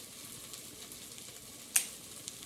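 Chili powder hits a hot pan with a soft, steady sizzle, a brief sharper crackle standing out midway, quiet and close with no talking.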